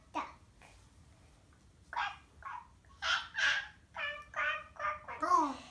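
A young girl imitates a duck with a string of short, nasal quacks, loud and close, coming in quick bursts after a brief quiet stretch.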